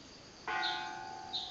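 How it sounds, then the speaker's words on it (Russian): A gong struck at a meditation center to call people to a meal, a single resonant stroke ringing out with a long sustained, shimmering decay at moderate distance, heard without talk. "Вон, слышите, там гонг, жрать зовут."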